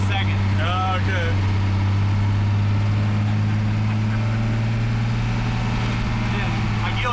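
A 6.7 Cummins diesel swapped into a 1975 C10 pickup hums as a steady, loud low drone with a faint high whine riding above it, while people talk over the engine throughout.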